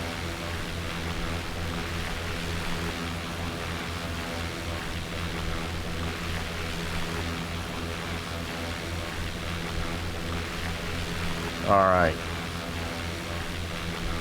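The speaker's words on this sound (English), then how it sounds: "This is such a great little airplane." A2A Piper J-3 Cub propeller engine in a flight simulator, a steady droning hum with a strong harmonic buzz that continues throughout, with a short rising whine near the end and a brief spoken remark.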